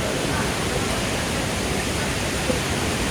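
Hogenakkal waterfall roaring as a steady, dense wash of rushing water that stays even and unbroken throughout.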